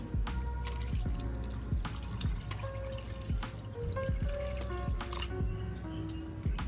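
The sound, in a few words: water being poured into a cooking pot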